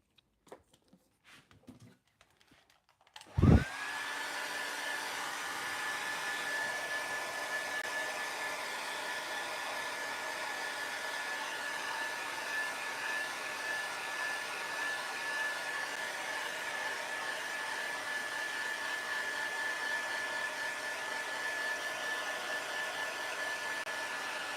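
A hair dryer dries a loose-flower watercolour painting. After a few quiet seconds with light handling noises, it switches on and keeps up a steady, close, even whir with no talk.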